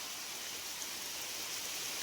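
Rain falls on marigold plants in a farm field, a soft, constant hiss of dense drops that stays level throughout, with no one speaking.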